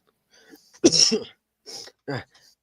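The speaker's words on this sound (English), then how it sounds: "Had a cough there for a second." A couple of short, sharp coughs and a throat clear, close by and isolated against silence.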